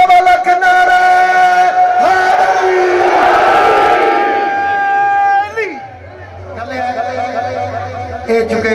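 Crowd at a Pothwari poetry gathering shouting slogans back in unison, loud massed voices swelling then dropping, with a single voice leading and chanting resuming near the end.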